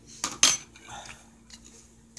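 Carrot cake batter beaten in a bowl, a few quick utensil clinks and scrapes against the bowl, close and brief, with no talking.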